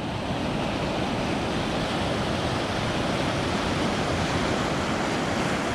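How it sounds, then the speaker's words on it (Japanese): Ocean surf breaks along the southern Okinawa coast while someone wades, a loud, continuous wash of churning water and spray that fills the whole scene without pause. "波だったな今のは。"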